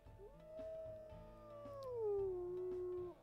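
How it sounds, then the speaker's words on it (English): A high, wavering wolf howl in the video game WolfQuest that holds a tone and then glides downward, alone over a faint low background rumble. "a much higher pitched one"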